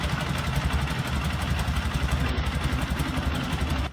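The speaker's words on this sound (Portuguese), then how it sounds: "As primeiras motocicletas KMZ faziam esse som." A vintage KMZ M72 motorcycle engine runs steadily at a low, throbbing idle with an even mechanical pulse, close and continuous, and cuts off abruptly at the very end.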